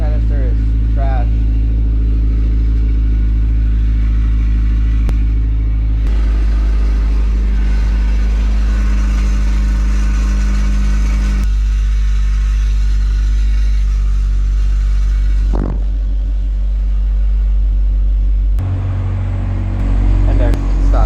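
An 8th-gen Honda Civic Si with a K24 engine and a Rev9 exhaust drones heavily with a deep steady engine hum close by. Engine pitch shifts slightly over its course, and voices are heard in places.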